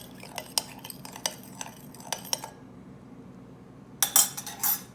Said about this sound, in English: So, tablespoon of sugar and some milk. We mix them.